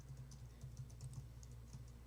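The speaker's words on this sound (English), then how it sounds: "Wait, stop typing a second, Regan." Faint, steady clicking of typing on a computer keyboard during a live show, soft irregular taps sitting low beneath a constant background hum.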